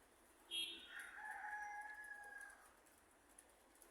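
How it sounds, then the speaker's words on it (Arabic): A rooster crows once near a pigeon tower, a single clear call rising and trailing off at moderate distance over quiet background. "هذا طير."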